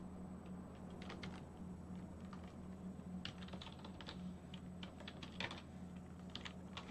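The ifconfig command is typed on a computer keyboard, with soft, close key clicks in short scattered bursts over a low steady background hum and no speech.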